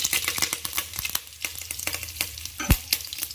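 Curry leaves crackle in hot oil for a Mangalore-style country chicken sukka. The sound is a close, busy sizzle full of sharp pops and spits, with one louder burst near the end.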